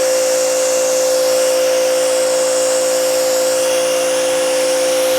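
A YERYORK adjustable electric pressure washer spraying a sidewalk produces a continuous, loud, even hiss of water jet over a steady motor whine, with no breaks or voices.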